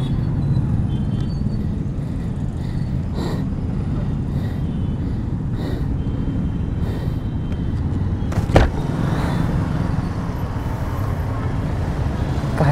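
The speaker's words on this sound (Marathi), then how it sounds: "काय ट्रॅफिक आहे का चेष्टा आहे." Road traffic around a motorbike rider stuck in a jam: a steady rumble of car and vehicle engines close by, with occasional passing swells and a brief louder clatter near the end.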